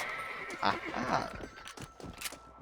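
A horse in the video game Red Dead Redemption 2 gives a sharp whinny followed by clip-clopping hooves, close and loud, over a brief burst of game noise.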